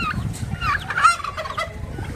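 Poultry calling nearby, a rapid gobbling, clucking chatter from a few birds, fairly loud against outdoor background noise.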